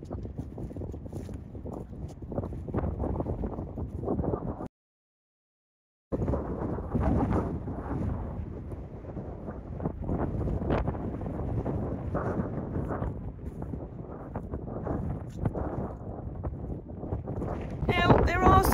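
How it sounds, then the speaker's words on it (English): Strong gusts on a windy day buffet the microphone in a loud, rumbling roar that runs almost throughout, broken by one brief silence, with voices faintly underneath. "there are some plus points to the wind, apart from the fact that it makes my editing on my video quite difficult"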